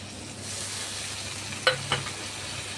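Rice frying in a pan with turmeric and spices, an even close sizzling hiss throughout with a couple of sharp utensil taps near the end, no voices.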